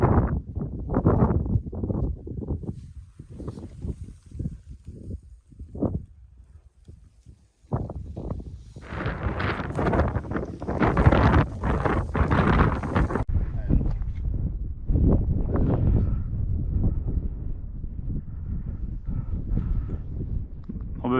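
During a grouse hunt in the Norwegian countryside, strong wind buffets the microphone in loud, gusty low roars that keep going almost the whole time, with crunching footstep-like thuds mixed in.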